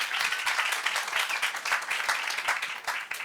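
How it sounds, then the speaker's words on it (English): A crowd claps at a corporate stage event marking a Carling Black Label and Kaizer Chiefs partnership. The applause is dense and sustained, steady throughout, with faint voices mixed in. "Give her a round of applause as she comes up."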